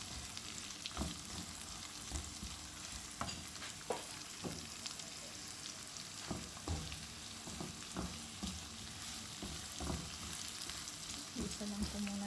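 Onions fry in a pan for a mung bean dish, a faint, continuous low sizzle broken by soft irregular taps and scrapes of stirring, distant and quiet throughout, with no voices.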